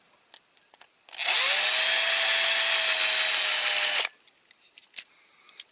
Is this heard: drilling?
yes